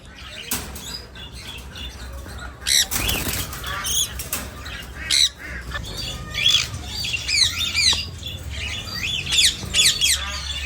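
A breeder pair of green ringneck parakeets squawk in sharp, repeated bursts while wings flap and flutter nearby, the calls scattered unevenly over a background hum.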